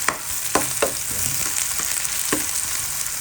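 Ginger and onion with garlic sizzle steadily in hot oil in a pan, a constant bright frying hiss with a few sharp pops and spatters, close and alone with no talk.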